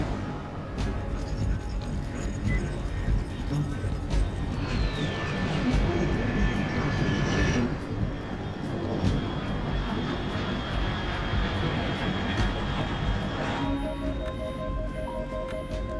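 Aircraft engine roar sweeps overhead in a Metal Gear Solid Delta game scene, a loud, dense, sustained drone that swells and slowly fades over about sixteen seconds, with a faint high tone near the end.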